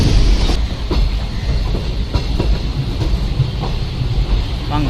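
An unreserved express train runs along the scenic Palakkad–Coimbatore line, a steady loud rumble with rhythmic clickety-clack over the rail joints.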